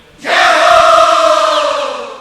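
At a religious discourse gathering, a large devotional audience roars a loud, sustained collective shout of "jai ho" in unison. The cheer starts abruptly and holds steady for about two seconds before tapering off.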